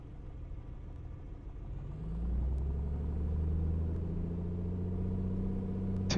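Piper Comanche piston engine during a pre-flight run-up in Microsoft Flight Simulator 2024, a steady idle drone that swells to a louder, higher-revving roar partway through and holds there.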